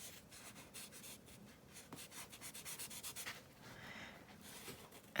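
Chisel-tip marker dragged across a coloring page in quick, soft rubbing strokes, close and faint, with a steady scratchy rhythm and no talking.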